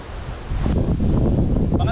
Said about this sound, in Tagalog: Ayan, malakas ang hangin.